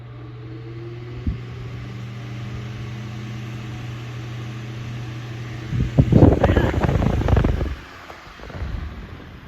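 A 1937 Emerson Seabreeze desk fan, model 3460, hums steadily at a low setting before switching up with a clunk and a rising whoosh of moving air, then settling.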